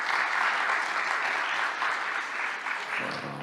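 Audience applause at an opening-remarks event honoring colleagues, a steady dense patter of many hands clapping throughout, fairly close, easing slightly near the end.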